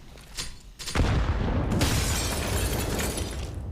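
A grenade goes off during a professional Counter-Strike match on the Train map, a sharp burst followed by a sustained loud, noisy roar that fills the rest of the moment, with no voices.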